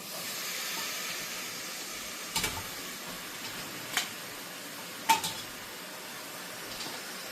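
Fresh washed mutton dropped into a hot pan while cooking a Kanuma festival meal, producing a soft steady steamy hiss with a few sharp clanks of utensil against the pan, no voices.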